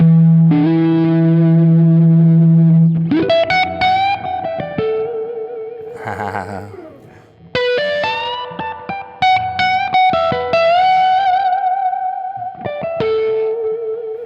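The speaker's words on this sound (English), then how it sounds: "Now give me a little more reverb just for fun" Electric guitar chords with heavy reverb and effects, ringing and washing into a long, echoing tail, played loud and close with no voices.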